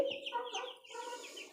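Small home-raised chicks chirp and peep in a quick, busy cluster of high calls, close by and with no talking.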